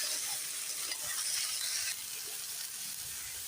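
Squash and potatoes cooking in a pan with a little water and green chilli, no oil, giving a loud, continuous hissing sizzle that eases slightly partway through.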